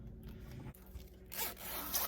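A zipper on a handmade sewn Zynah bag is pulled in a quick, close rasping run after a short pause, fairly loud against a quiet room.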